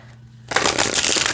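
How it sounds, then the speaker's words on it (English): An oracle card deck is shuffled up close: after a quiet start with a low hum, a dense, crisp riffling burst runs steadily to the end, loud and alone. "So as you can see, they shuffle just fine."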